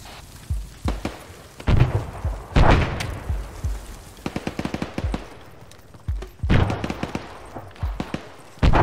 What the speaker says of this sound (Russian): Взрыв, через поле, через поле от нас.